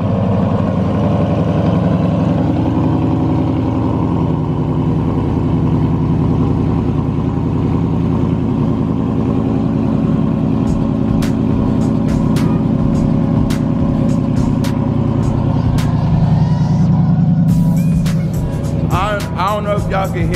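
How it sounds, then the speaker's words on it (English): A 2015 Mustang GT engine cold start, recorded from the back, rumbles steadily at close range, a deep continuous idle that holds for the whole stretch, with some clicks and brief noises near the end. "I'm gonna record a cold start."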